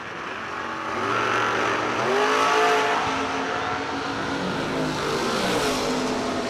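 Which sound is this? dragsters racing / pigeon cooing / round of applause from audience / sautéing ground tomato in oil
dragsters racing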